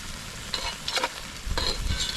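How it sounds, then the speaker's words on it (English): Onions, peppers and sausage cook in a pan at a campsite, a soft low sizzle broken by a few quick stirring scrapes, close and fairly quiet with no voices. "These onions and peppers with the sausage cooking."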